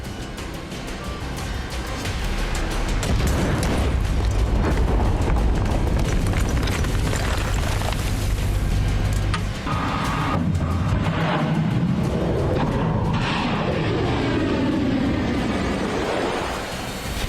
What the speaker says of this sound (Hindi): अमेरिकी नेवी ने एक के बाद एक कई टॉम हॉक मिसाइलें दागी, जो सीधे ईरान के ठिकानों पर गिरी